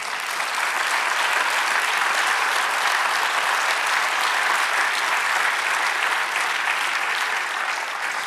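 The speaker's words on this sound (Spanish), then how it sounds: "Denle un aplauso al Señor." A church congregation applauds steadily for about eight seconds, a dense, even wash of clapping from many hands with no talk over it.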